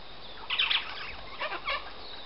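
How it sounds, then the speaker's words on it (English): Birds, likely parrots such as sulphur-crested cockatoos, give a few short raspy calls nearby outdoors, in brief bursts over faint background noise. "There are parrots nearby."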